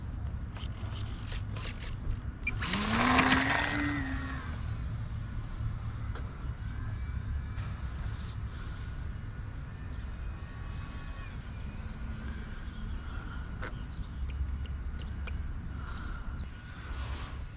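Flite Test Simple Scout RC airplane flying, a faint electric motor whine that rises and falls as it passes, with a louder surge early on, over steady outdoor background noise.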